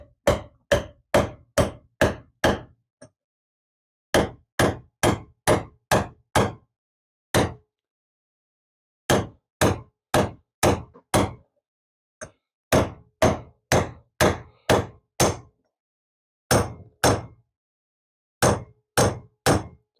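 A brake caliper piston hammered against a hub bearing race on a Frogeye/Bugeye Sprite, loud close metallic blows in quick bursts of four to six strikes separated by short pauses, with no talk.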